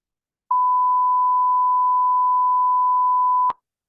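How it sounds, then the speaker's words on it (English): A pure 1000 Hz sine tone sounds alone, a single steady, clean beep held at constant loudness for about three seconds against silence, ending with a small click. "This is a 1000 Hertz tone."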